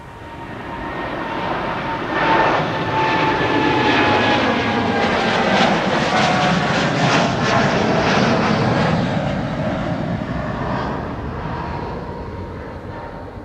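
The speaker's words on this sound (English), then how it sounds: "Already rotating. 787-10 Dreamliner." Boeing 787-10 Dreamliner taking off from Amsterdam Schiphol Airport, a loud sustained jet roar that swells and then slowly fades as it departs, heard from a fair distance.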